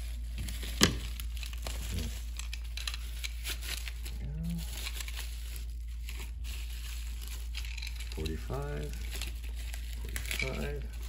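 Plastic wrapping crinkles and rustles in intermittent bursts as the riser of a takedown horse bow is unwrapped, close up, with someone talking over parts of it.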